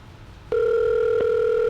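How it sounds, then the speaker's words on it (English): A phone call rings out as a steady, loud electronic tone that switches on suddenly after a quiet moment and holds evenly, with a brief blip partway through. "We're calling. We're ringing."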